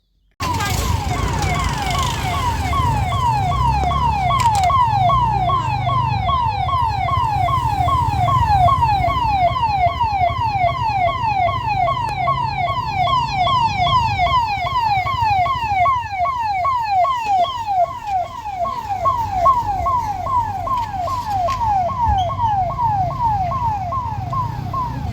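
Ambulance siren stuck in a heavy traffic jam, a loud, continuous fast wailing sweep repeating steadily for the whole stretch over low road rumble, with no voices.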